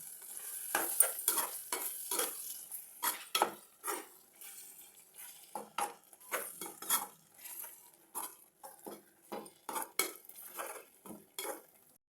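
Spoon stirring chicken liver fry in a pan with curry leaves and coriander, a series of close, quick scraping strokes with light sizzle and clinks against the pan, no voices.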